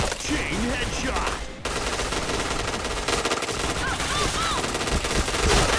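Rapid automatic gunfire rattles in a Point Blank shooter match, dense overlapping bursts with short pauses, loud and continuous over game effects.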